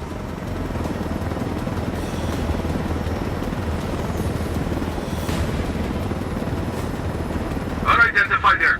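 Helicopter flying in Ghost Recon Wildlands: a steady, loud rotor and engine drone that fills the whole stretch without a break, with a brief burst of higher noise near the end.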